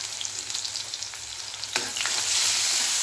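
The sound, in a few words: onion frying in oil with cumin and mustard seeds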